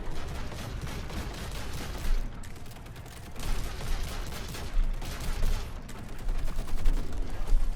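Repeated pistol fire in the sci-fi mining shooter Deep Rock Galactic, a steady stream of close shots layered with game mechanisms and effects, with no voice over it.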